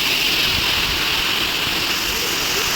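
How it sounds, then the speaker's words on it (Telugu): A waterfall roars as a steady, dense broadband rush near Hornadu, constant and loud throughout with no breaks. "water fall"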